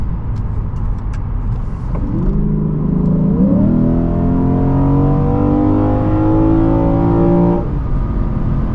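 A 2023 Lexus IS 500 F Sport V8 engine with active sound control switched on revs up from idle, its tone climbing steadily in pitch for several seconds before dropping back, loud and close with no talk over it.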